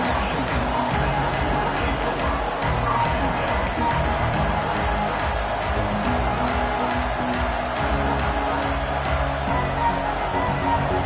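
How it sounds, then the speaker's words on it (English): Stadium crowd in a college football video game, Washington versus Arkansas, a steady dense roar of cheering and babble that fills the whole stretch at constant loudness. "This crowd ready to make its presence known."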